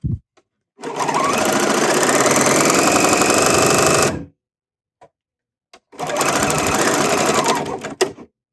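A serger sewing machine with its rolled hem lever engaged runs loud and close in two long steady bursts, separated by a few seconds of near silence with small clicks.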